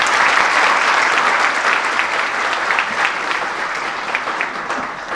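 An audience at a value education seminar applauds to welcome a speaker, a dense, loud burst of clapping that holds steady and slowly tapers toward the end.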